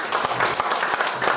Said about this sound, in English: So we'll give him another clap